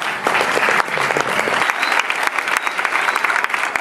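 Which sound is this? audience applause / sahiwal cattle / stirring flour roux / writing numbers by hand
audience applause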